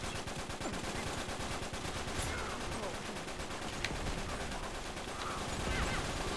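Rapid gunfire fills an Uncharted 3 multiplayer firefight, dense bursts of shots crackling continuously and loudly from start to finish, with sharper single reports standing out now and then.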